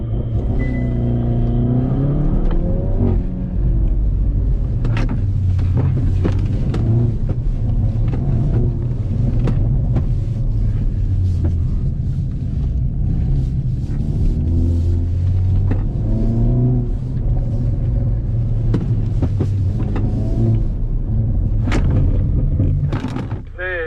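A 2020 Hyundai Veloster N with 8-speed DCT launching hard with launch control; the engine roars steadily and loudly throughout, with wind buffeting the microphone and a voice speaking over the din.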